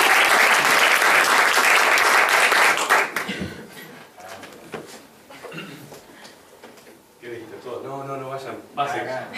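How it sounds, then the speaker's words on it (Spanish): An audience bursts into loud applause at a singing showcase for about three seconds before it fades into a murmur, with clatter and talking afterward. "Un aplausito. Un aplausito."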